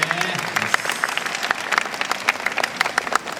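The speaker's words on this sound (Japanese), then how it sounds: "皆さんもうちょっと拍手をお送りください。" A crowd at a Korean beauty and medical fair talk event applauds, steady dense clapping with sharp individual claps standing out, while a presenter's voice carries over part of it.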